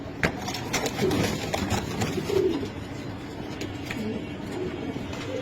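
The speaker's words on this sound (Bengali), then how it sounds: "প্রত্যেকটা কবুতর সুস্থ সবল এবং কোয়ালিটিফুল কবুতর" Budapest pigeons at a pigeon farm in Mirpur 13 coo in short, throaty bursts amid a busy loft ambience, with scattered sharp clicks and wing flutters.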